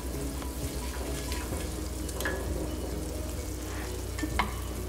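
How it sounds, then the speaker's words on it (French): Onions cooking in butter in a soup pot for French onion soup give a steady close sizzle with occasional stirring scrapes and light clinks. "la première étape, c'est de caraméliser nos oignons"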